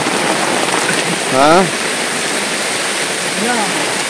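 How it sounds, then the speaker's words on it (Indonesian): Heavy rain pours steadily around a tarp cabin, a dense, loud, even rush like running water, with brief bird-like chirps breaking through twice. "hujan makin deras sobat"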